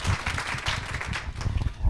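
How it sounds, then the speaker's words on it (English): An audience applauds at a morning community event, a steady crowd clapping that fills the whole moment without any speech over it. "So please give them a warm round of applause."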